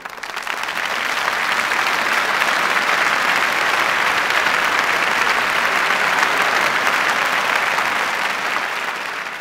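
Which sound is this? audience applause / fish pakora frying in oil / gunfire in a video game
audience applause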